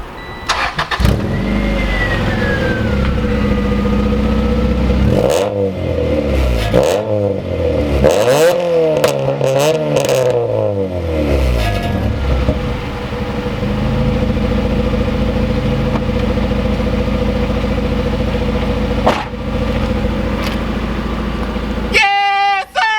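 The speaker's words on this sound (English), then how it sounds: "let me turn it on, give you guys a couple revs" A Toyota Mark IV Supra engine starts and revs several times in loud rising and falling bursts, then settles into a steady idle close by, with brief voices near the end.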